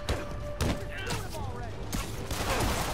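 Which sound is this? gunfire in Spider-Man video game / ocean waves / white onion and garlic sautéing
gunfire in Spider-Man video game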